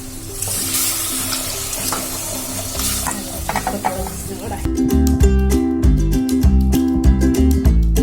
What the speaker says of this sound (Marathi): आपल्याला आळू ओतायचा आहे.